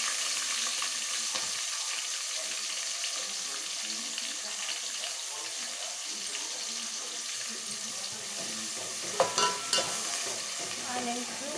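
Onions fry in hot oil with garam masala spices, cardamom, cinnamon, bay leaf and shahjeera for chicken biryani, giving a constant bright sizzling hiss with scattered stirring clatter and a few louder scrapes near the end.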